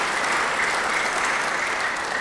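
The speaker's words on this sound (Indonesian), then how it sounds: "Beri tepuk tangan yang baik bagi dia." A church congregation breaks into sustained applause during a sermon, a dense wash of clapping from many hands that continues evenly throughout.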